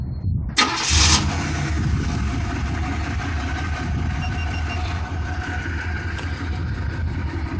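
A Cadillac LS Brougham's engine fires up by remote start with a sharp crank and catch, then settles into a steady, close idle that rumbles on to the end.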